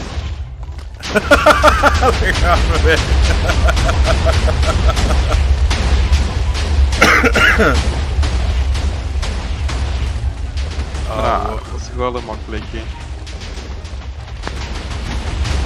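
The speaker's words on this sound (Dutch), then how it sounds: "Dan blazen we die ook op, hebben we alles gehad." Blocks blown up with explosives in the Minecraft video game, with deep booming blasts and crumbling bursts rolling under near-constant excited talk from players.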